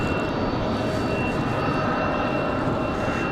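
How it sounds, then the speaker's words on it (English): An American Airlines Airbus A319 arriving from Chicago O'Hare at Raleigh Durham airport gives off a loud, steady jet engine roar on a windy day, full and continuous throughout with no pauses. "This one going to be an A319."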